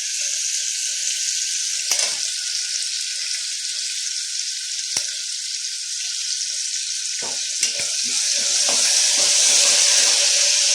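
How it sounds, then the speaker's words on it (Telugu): Ginger-garlic paste and green chillies frying in oil for potato masala, a constant close hiss with scattered spatter and stirring clicks that grows livelier near the end, no voices. "అల్లం వెల్లుల్లి పేస్ట్ కూడా ఫ్రై అయింది కాబట్టి పచ్చిమిర్చి వేసుకున్నాం"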